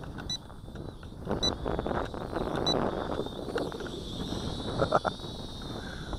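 Gusty wind rumbles and buffets the microphone outdoors on a windy day while a small Tarantula Spider 1505 quadcopter drone with prop guards flies, its faint high motor whine running underneath throughout.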